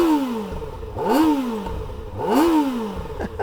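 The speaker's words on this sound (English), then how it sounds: "Considering that it is a small inline four, it's a 4-cylinder motorcycle." A 2024 Kawasaki Ninja ZX-4RR with a small stock inline-four engine revs twice in sharp, rising bursts that fall back between them, close and loud with no talking.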